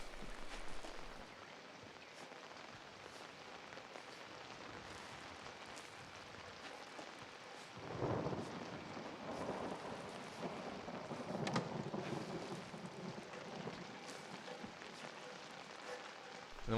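Steady rain and rolling thunder from the Outlast video game, a dense, fairly faint downpour with a deeper thunder rumble swelling midway, and no voices.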